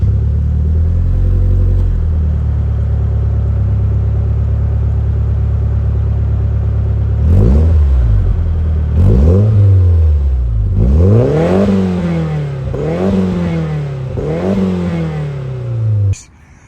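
A rare JDM car with an upgraded turbo, downpipe and full exhaust idles with a deep steady rumble, then blips its throttle in four or five sharp revs that rise and fall, loud and close, before cutting off.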